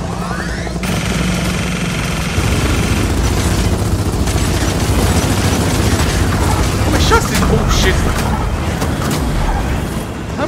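Sustained automatic gunfire and booming explosions from a Gears of War 4 firefight roar densely and loudly throughout, with a burst of clattering mechanisms, and voices speak faintly beneath the barrage.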